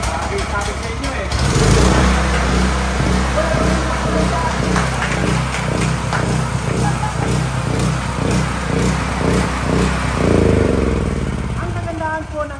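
A large generator engine starts with a burst and then settles into a steady, loud, rhythmic chugging run before easing off near the end, with people talking over it.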